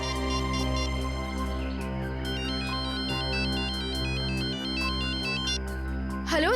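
A phone ringtone plays in a tense crime-drama scene, a loud repeating electronic melody of bright beeping tones that rings steadily throughout with no speech.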